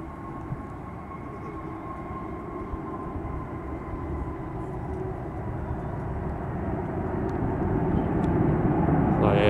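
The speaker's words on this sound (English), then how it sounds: "That's all a jet engine is, just wind." Jet airliner landing with engine thrust, a broad steady roar that builds gradually louder and nearer, with no talk over it.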